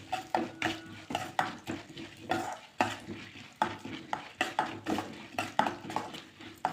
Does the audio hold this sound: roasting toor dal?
yes